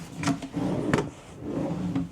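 Wooden drawers are pulled open and shoved shut in a home office during a search for desk legs, giving two or three close, scraping thuds with rubbing slides between them and no talk.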